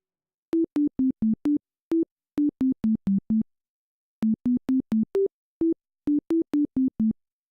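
Logic ES2 software synth set to a basic sine wave playing a simple melody: clean, pure tones in short separate notes, grouped in phrases with brief pauses, played alone at steady volume.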